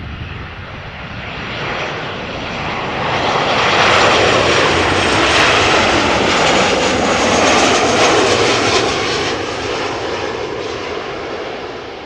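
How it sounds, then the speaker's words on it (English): A Transavia Boeing 737-800 jet arriving at Amsterdam Schiphol from Faro gives a loud, steady broadband engine roar. It swells toward the middle as the plane passes close and stays heavy throughout, with no voices. "This is Transavia flight 5358, Boeing 737-800, arriving from Faro in Portugal."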